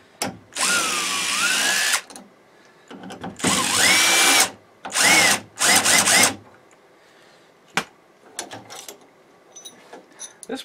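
Power drill backing screws out of a pocket door's hardware: four separate bursts of whirring motor of a second or two each, with pitch that sweeps up and down, then quieter clicks and handling noises at close range.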